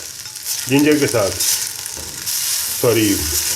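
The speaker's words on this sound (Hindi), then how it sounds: "गार्लिक पेस्ट के साथ इसको थोड़ा मैं सौते करूँगा" Fried chicken Manchurian pieces, seasoned with chili, salt and soy sauce, being sautéed with garlic paste in a hot pan, a steady close sizzle with louder hissing bursts and stirring scrapes throughout, no talking.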